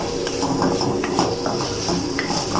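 Carrots and green chili being tossed in a hot pan, with a steady sizzling hiss and scattered scraping and clinking of a spatula against the metal throughout.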